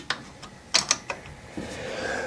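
A ratchet loosens a bolt on a Time to Tinker 125 tractor, a few sharp metallic clicks and pawl snaps in an uneven sequence, close up, then a low steady mechanical hum.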